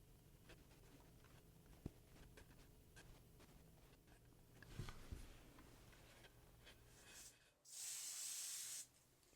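Spray paint hisses onto a model rocket wrap for an Estes Little Joe II build in one steady, close burst lasting about a second, following quieter handling and rustling sounds.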